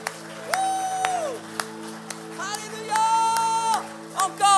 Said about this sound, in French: Est-ce qu'on donne une acclamation à Jésus?